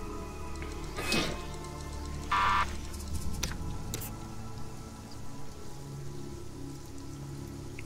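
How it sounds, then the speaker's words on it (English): Black rain falling in the video game Sheltered, a steady patter of rain on surfaces with a few brief clunks and chimes from the game mixed in. "Back to this black rain"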